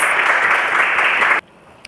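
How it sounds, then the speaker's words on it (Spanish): Church congregation applauding together in a steady, dense burst of clapping that stops abruptly after about a second and a half, leaving near quiet. "Denle un fuerte aplauso al Señor."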